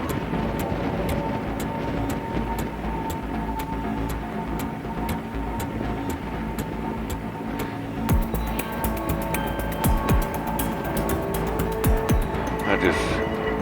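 A Harley-Davidson Fat Boy 114 motorcycle rides along a country road into the town of Cadiz, its engine a steady, close rumble under wind noise with a regular ticking pulse throughout.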